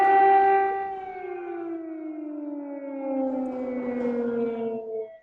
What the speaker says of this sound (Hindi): ये आपके यहाँ सायरन है या हमारे यहाँ?